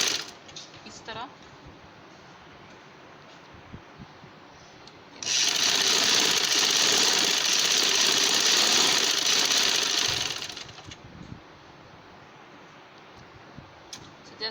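A sewing machine stitches cancan fabric onto a lehenga, running as a loud, steady mechanical whir up close for about five seconds, with quieter handling noises before and after.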